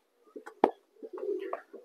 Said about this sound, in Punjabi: ਕਹਿੰਦੇ ਵੀ ਇੱਥੇ ਕਬੂਤਰ ਰੱਖ ਲਿਆ ਬਾਈ ਨੇ